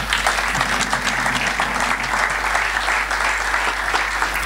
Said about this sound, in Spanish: les pediría que recibiéramos con un caluroso aplauso a nuestros dos invitados